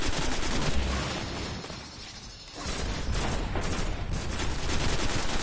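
Heavy automatic gunfire in the shooter Destiny, sustained bursts that dip briefly in the middle before a loud, continuous volley resumes.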